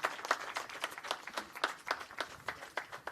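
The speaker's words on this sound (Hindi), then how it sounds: "जोरदार तालियों से अभिनंदन करें।" An audience at a Jharkhand Foundation Day ceremony applauds as a memento is presented to the chief guest. The clapping is steady and dense but modest in level and goes on without a break, with no voices over it.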